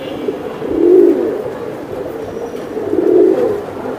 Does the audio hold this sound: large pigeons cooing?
yes